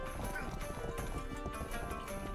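A fast horse galloping in the video game Rustler, its hooves thudding in a quick, steady clip-clop rhythm under a busy game soundtrack while a voice talks over it.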